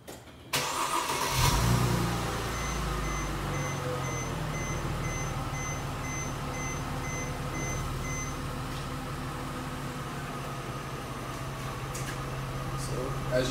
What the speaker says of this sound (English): Now I'm gonna go ahead and start the car up